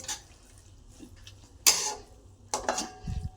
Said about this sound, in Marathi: गरम पीठ असल्यामुळं आपण वाटीने त्याला एकजीव करत आहे